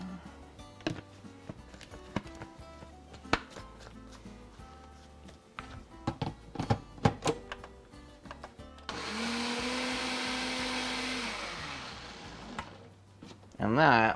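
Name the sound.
blender mixing nogada sauce with milk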